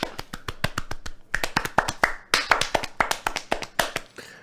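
Steady hand clapping, dozens of sharp, close claps in a brisk, slightly uneven rhythm with short gaps, alone and fairly loud.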